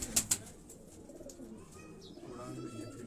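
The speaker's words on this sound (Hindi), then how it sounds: "ये मोतियों वाला कबूतर है, बड़ा शानदार।" A pearl-marked high-flying pigeon gives a few soft, low coos close by, with two brief sharp sounds near the start and a quiet background.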